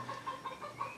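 Chickens cluck softly in short, repeated calls, a brief burst of several clucks with no talking.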